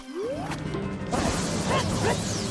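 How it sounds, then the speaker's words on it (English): Ocarina of Time Arwing laser shot using the Phantom Ganon energy-ball reflect effect: a rising synthetic zap followed by a bright, crashing electronic burst with shimmering tails, loud and close. "Its lasers use the sound effects from reflecting Phantom Ganon's energy balls"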